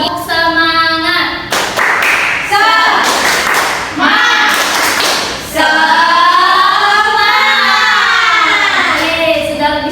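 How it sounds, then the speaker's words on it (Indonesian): A classroom teacher leads students in the tepuk semangat ice breaker, a call-and-response clapping routine, with sharp rhythmic bursts of group claps between loud chanted voices of the class. "ice breaking berupa tepuk semangat agar kalian semangat untuk belajar hari ini"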